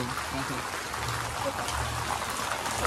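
Rain pours steadily, a dense, even wash of drops hissing on surfaces close by, continuous and fairly loud throughout.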